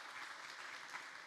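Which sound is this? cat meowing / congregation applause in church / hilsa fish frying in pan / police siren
congregation applause in church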